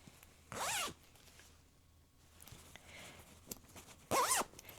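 A zipper on a small quilted fabric pouch is pulled twice, each a short rasping zip, close and clear, separated by a few seconds of quiet handling rustles.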